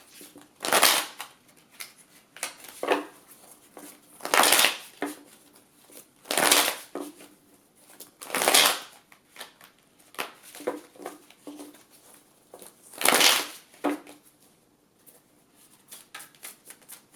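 A psychic reader shuffles a deck of cards in a quiet room, producing repeated crisp riffling bursts every couple of seconds with lighter card taps and handling noises between them.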